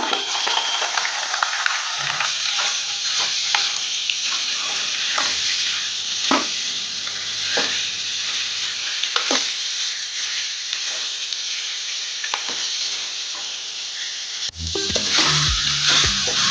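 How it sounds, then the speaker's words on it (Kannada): Chopped green tomatoes frying in a pan for chutney, a continuous close hiss and sizzle with intermittent scraping stirs, alone without talk, briefly interrupted near the end by a louder clatter. "ಈಗ ಕಟ್ ಮಾಡಿ ಇಟ್ಕೊಂಡ ಕಾಯಿ ಟೊಮೆಟೊನ ಹಾಕಿ ಫ್ರೈ ಮಾಡ್ಕೊಳ್ಳೋಣ"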